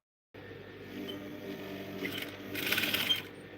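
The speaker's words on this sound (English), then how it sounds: "I jump it and I start below again, and then I stitch down." Sewing machine stitching a buttonhole, a steady close mechanical whir that starts abruptly and grows slightly louder toward the end, with no voices.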